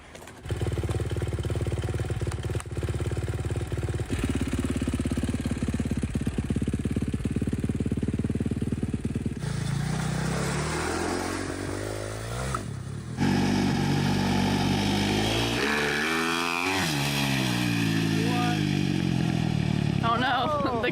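A homemade buggy engine idles with a rough buzzing drone, then revs up and down in rising and falling surges, close and loud, while people talk over it.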